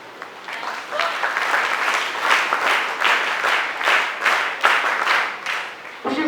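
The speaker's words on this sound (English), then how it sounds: "Please give your clap." Applause at a valedictory function of a national integration camp, a crowd clapping steadily with dense, even rhythm for several seconds, fairly close and loud.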